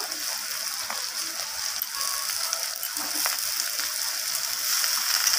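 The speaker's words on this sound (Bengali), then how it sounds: "পেঁয়াজের সাথে আলু আর কড়াইটাকে ভালো করে নাড়িয়ে চাড়িয়ে ভেজে নেব।" Onions and cut potatoes fry in oil in a pan while being stirred, a steady bright sizzle and crackle that holds through the whole stretch at moderate loudness, with no talking.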